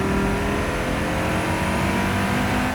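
Audi RS3 five-cylinder engine revving, a loud sustained throbbing drone with steady harmonic tones that holds constant with no pauses or voices.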